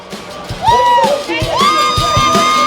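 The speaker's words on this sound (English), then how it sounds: "Triton Robbins getting a cheer from the crowd." A crowd at a monster truck show in Bangor, Maine cheers and whoops loudly, with rising shouts and a few high yells standing out over the steady roar of the audience.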